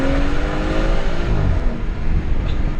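Tuned BMW 440i with a Stage 1 upgrade accelerating hard from about 40 to 100 km/h, heard from inside as a loud, steady engine roar whose pitch climbs and then settles as it shifts, continuous throughout with no talking.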